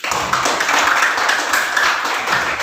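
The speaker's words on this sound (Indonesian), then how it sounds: "Beri aplaus untuk kelompok 1" A classroom group claps for the first group of presenters, a brisk, dense round of hand clapping that stays steady and fairly loud from start to finish.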